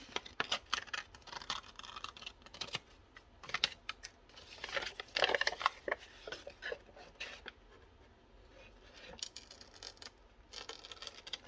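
Paper coin pockets being cut with scissors, a run of close, irregular snips and crisp rustling scrapes in short clusters, fairly quiet with pauses and no talking.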